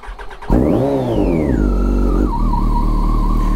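A Yamaha FZ1 motorcycle starts up loud and close after sitting unused for months. Its engine catches at once, surges into a quick rev that swells and falls away, then settles into a steady idle.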